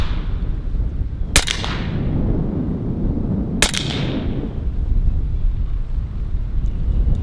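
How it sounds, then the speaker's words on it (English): Strong wind roars steadily across an outdoor microphone at a shooting range, a loud continuous rumble, broken twice by sharp cracks of a full-auto Western Sidewinder S .30 caliber air rifle. "The wind is pretty wild right now."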